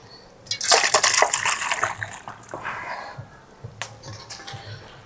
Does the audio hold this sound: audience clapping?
no